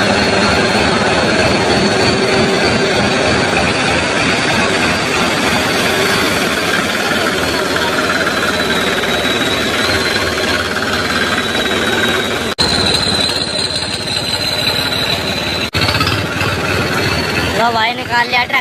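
A Swaraj tractor engine runs loud and close, a steady rumbling drone with a high whine on top that never lets up.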